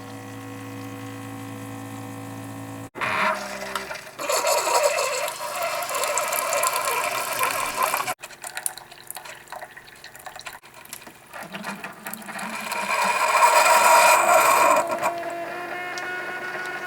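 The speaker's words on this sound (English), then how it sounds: "I'm going to brew on my 8-ounce setting" A Keurig-style K-Cup coffee maker brews an 8-ounce cup: a steady hum at first, then a clunk, followed by loud mechanical pumping and gurgling water that keeps going, with a louder burst of hissing toward the end.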